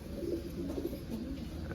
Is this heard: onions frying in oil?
no